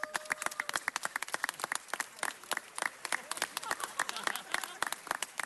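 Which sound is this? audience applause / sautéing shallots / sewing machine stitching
audience applause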